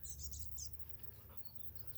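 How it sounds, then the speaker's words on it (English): Small bird chirping outdoors near thorny brush, a few quick faint high tweets clustered in the first moment, then softer scattered calls over a low background hum. "There's a little bird."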